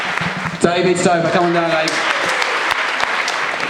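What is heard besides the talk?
applause at a miniature painting competition awards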